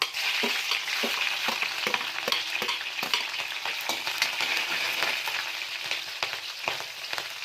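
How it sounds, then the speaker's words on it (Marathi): Mustard seeds, cumin and green chilies frying in hot oil for a Khandeshi brinjal curry: a bright continuous sizzle studded with rapid sharp pops and crackles as the seeds burst, close and without talk. "हे बघा, तेल गरम झालेलं आहे. यामध्ये मोहरी टाकणार आहोत, जिरं, मिरची टाकून घेणार आहोत."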